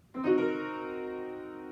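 A single sustained diminished seventh chord struck on a keyboard, ringing out and slowly fading, alone with no other sound.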